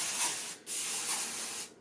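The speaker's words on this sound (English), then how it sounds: "I try not to touch it too much while I spray it" Heat protectant spray mists onto hair in two quick, close, hissing bursts separated by a brief pause.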